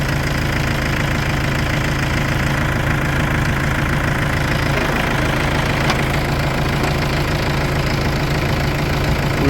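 A small loader tractor on a northern Wisconsin farm idles steadily and close, a continuous low diesel rumble with a knocking, vibrating beat and no voices.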